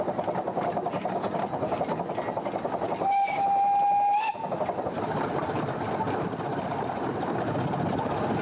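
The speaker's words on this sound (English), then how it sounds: "That throttle is wide open, and that little locomotive has everything it can do to climb this crest." A small British steam locomotive working hard up a crest with the throttle wide open, its heavy chuffing rumble running continuously while a shrill whistle sounds for about a second in the middle, then the labouring train carries on.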